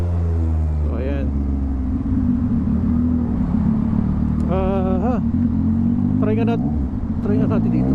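A 2023 Yamaha MT-09 motorcycle in city traffic gives a close, loud, steady engine drone with rising revs in places, while a rider talks over it.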